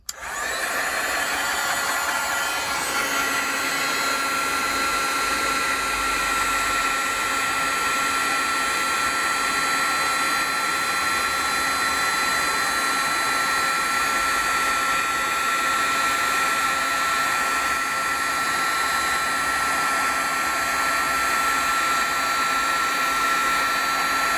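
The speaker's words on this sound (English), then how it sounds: "Let me heat emboss this." A heat gun used for embossing a card runs steadily with a loud, constant whirring blow that starts abruptly and continues without pause for a long stretch.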